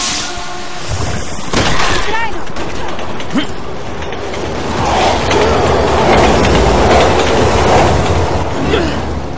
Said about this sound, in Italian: I treni funzionano.